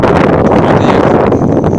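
Strong wind buffets the microphone outdoors in cold, rainy autumn weather at a raspberry planting, a loud, constant rumbling roar with no break.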